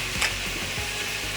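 Spinach artichoke dip with cooked spinach, pepper and salt stirred in a hot pan, giving a steady soft sizzle with a few low scraping strokes of the spoon against the pan, close and fairly quiet.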